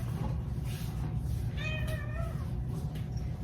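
A kitten gives a single short meow, fairly clear against a steady low kitchen hum while chicken tenders are being prepared for a chicken pot pie.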